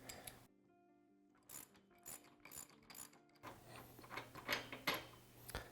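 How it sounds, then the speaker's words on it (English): Ratchet socket wrench with a 15mm socket loosening bolts on a Polaris RZR XP 1000 UTV, quick bursts of close clicking pawl ratchets separated by brief pauses, followed by metallic rattling and clinks. "So we're going to use a 15mm socket to remove both of these."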